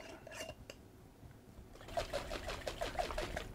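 A jar of water and pigment shaken, rapid rhythmic sloshing and rattling after a brief quieter stretch, close to the microphone.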